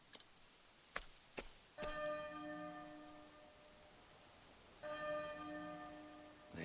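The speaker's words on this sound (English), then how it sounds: "There's the bell again." A church bell rings in the video game Octopath Traveler II, with two long resonant strikes that hum and slowly fade, after a few sharp ticks at the start and over faint rain.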